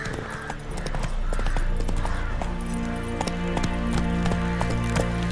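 Geralt's horse Roach gallops in The Witcher 3, its steady rhythmic hoofbeats sounding close and loud throughout, with a sustained musical tone rising behind them partway through.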